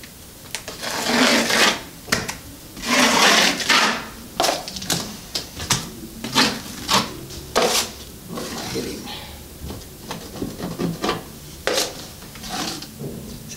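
A wide drywall knife spreads a first coat of joint compound over cracked corner bead in a close series of scraping, rasping strokes, uneven in rhythm and loudness.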